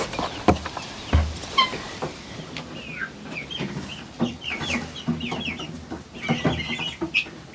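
Farmyard chickens clucking near a chicken tractor under construction, a mix of close, irregular clucks and short squawks at varied pitches, with occasional knocks and thumps scattered among them.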